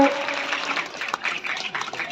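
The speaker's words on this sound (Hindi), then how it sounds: "जोरदार तालियां आप सबकी चाहिए।" Crowd applause at a police commendation gathering in Azamgarh, a dense, steady patter of clapping that holds for about two seconds with a short dip near the middle.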